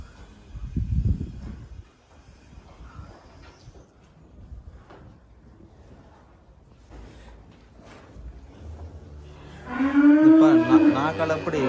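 Cattle at a livestock farm in Germany raising goats and cows: one loud, deep moo close by at the start, then quiet rustling and knocks, and another drawn-out call near the end.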